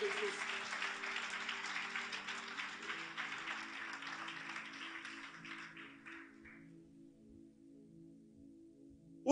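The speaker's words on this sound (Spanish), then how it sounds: "Un aplauso fuerte a nuestro Dios." A church congregation bursts into strong applause that carries for several seconds with a faint voice underneath, then fades out to near quiet.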